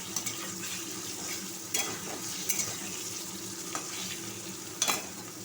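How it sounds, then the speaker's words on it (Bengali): Potatoes frying in oil in a pan while cooking a vegetarian paneer dish, a steady close sizzle with occasional clinks and stirring scrapes. "আলু ভাজা হচ্ছে।"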